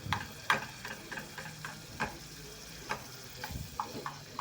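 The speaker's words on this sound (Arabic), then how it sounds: "هشوح التوم ده، حمره كده لغاية ما ياخد لون" Garlic fries in butter or ghee with a quiet, faint sizzle, punctuated by irregular soft clicks and taps of stirring.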